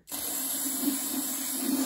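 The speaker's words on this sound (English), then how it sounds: "Now it's time to clean it with the silicone spray" A steady silicone aerosol spray hisses continuously at close range after a sudden start, cleaning dust and carbon from a ZR192 diesel engine.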